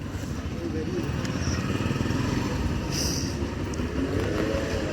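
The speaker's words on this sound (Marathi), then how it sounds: "चाललाय बाईकवर पुढे" A motorcycle rides ahead through a residential building compound, a continuous low engine drone at moderate distance under the voices of people talking nearby.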